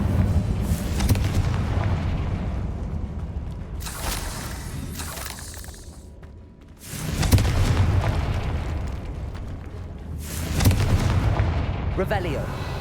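Confringo fire spells exploding in Hogwarts Legacy, a run of heavy booming blasts with rumbling tails that come in waves, one after another.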